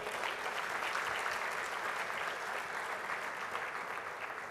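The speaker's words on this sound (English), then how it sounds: "Can I request a big round of applause for all of them?" A big round of applause from the audience at a charity jewellers' event, a steady even wash of many hands clapping at a moderate distance, with no speech over it.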